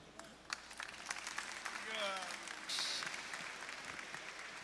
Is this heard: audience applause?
yes